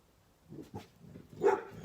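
A few short dog barks from a moderate distance, irregular and separated by brief pauses, with quiet background.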